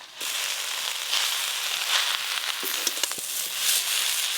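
Susni greens fry with potato and onion in a pan while being stirred, a dense close sizzle with scattered crackles and scraping stirs throughout.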